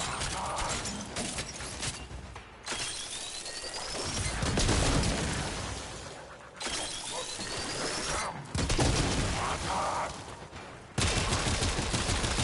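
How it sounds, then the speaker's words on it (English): A small auto pistol fires in Warframe, delivering dense, continuous rapid bursts with brief pauses between volleys, loud and close amid a busy game soundscape with some talking. "This is just a little auto pistol."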